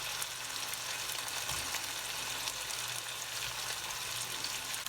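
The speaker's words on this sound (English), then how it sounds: "So now the onions are in there as well. I'm going to let them fry for a minute with the meat." Onions fry together with meat in a pan for spaghetti with gorgonzola cream sauce, giving off a steady, soft sizzling hiss throughout with a few small pops, and no voices.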